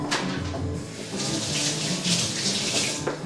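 Tap water runs steadily into a sink as hands are rinsed while preparing stewed pears, a continuous close splashing hiss with no talk.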